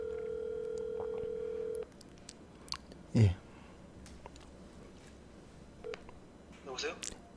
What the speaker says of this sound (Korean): 지금 바로 전화를 걸었고요.